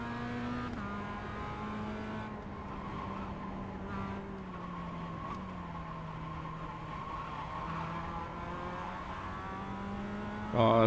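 Tyres squeal on a Mazda race car in the iRacing Advanced Mazda Cup at Mount Panorama, a sustained pitch-bending whine riding over a steady engine drone that swells abruptly loud at the very end.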